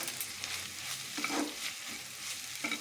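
Chopped onion, ginger-garlic paste and green chilli fry in a pan for dal makhani, giving a steady close sizzle broken by a few scraping stirs, with no voices.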